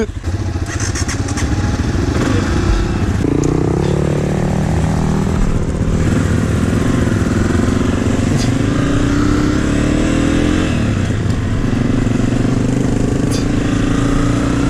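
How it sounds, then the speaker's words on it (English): A 2019 Honda CRF250F dirt bike engine runs loud and close throughout on a trail ride, with a rough, steady thumping idle that rises into throttle blips and revving before settling again. "I have myself a 2019 Honda CRF250F"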